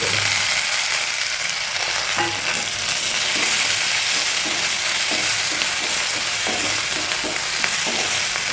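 Ginger, garlic, green chillies and shallots fry and get stirred in oil left over from frying fish, for a fish biryani, with a steady close sizzle and occasional spoon scrapes and clicks throughout.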